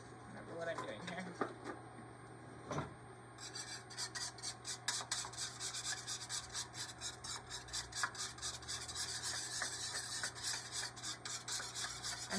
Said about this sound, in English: So start out with 2 eggs. So we're going to whisk the eggs together first.